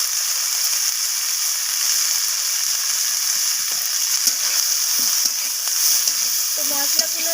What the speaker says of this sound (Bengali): তো মশলাগুলো দিয়ে আমি বিনসের সাথে এইভাবে নাড়াচাড়া করে নিচ্ছি।